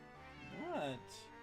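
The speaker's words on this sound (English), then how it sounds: "this cat was howling up a storm" A cat howls outdoors in a single drawn-out, rising and falling yowl, faint and distant, with a higher cry trailing off at the end.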